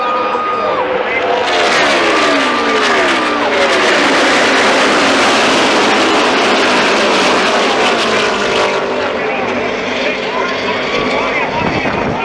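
NASCAR stock cars run three wide at Michigan in the 2016 FireKeepers Casino 400, a loud continuous engine roar with pitch sweeps as cars pass close by, under excited race commentary.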